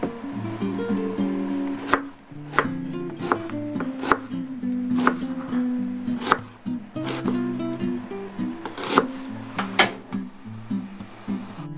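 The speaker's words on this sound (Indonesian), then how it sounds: "Bawang bombaynya tidak ikut dihaluskan ya," Onion is sliced with a knife on a cutting board: a run of sharp, irregular chopping taps, close and fairly loud, with some soft handling sounds between the cuts.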